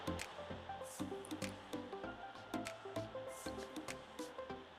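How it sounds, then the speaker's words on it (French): Water rinses shampoo out of curly hair, with repeated wet squishing, dripping and splashing pulses in an uneven rhythm, close by and fairly soft. "Après avoir shampooiné les 4 sections, je vais donc passer au rinçage."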